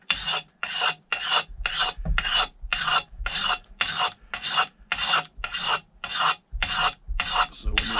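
A big axe blade is hand-sharpened with a file outdoors, steady back-and-forth rasping strokes, about a dozen evenly spaced loud grinding passes close to the listener.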